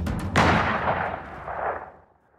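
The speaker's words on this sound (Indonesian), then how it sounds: "ternyata Chun-e yang terkena tembakan itu" A single loud gunshot sound effect from a drama cracks sharply and then rolls away in a long, fading echo over about two seconds, with nothing else around it.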